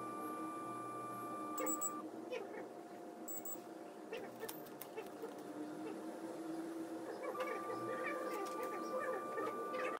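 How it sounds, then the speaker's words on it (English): A Sonic Mini 8K resin 3D printer lowers its build plate with a thin steady motor whine, a few short electronic beeps, and faint clicks, close and moderately quiet. "Click Z calibration button in Tools menu so that the build plate comes down to the bottom position."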